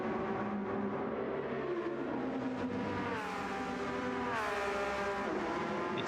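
Porsche race cars roar around Suzuka Circuit in a racing game. Loud, steady engine howls rise and fall in pitch through gear changes as the cars run close together, with no talk.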